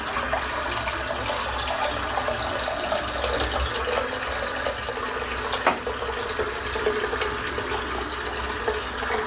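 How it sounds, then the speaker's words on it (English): Tap water runs steadily into a shaving bowl being refilled, a continuous close splashing hiss with a single brief clink partway through. "I'm just filling the bowl back up because it was stinking full of hair"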